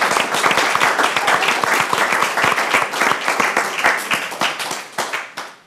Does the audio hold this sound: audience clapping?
yes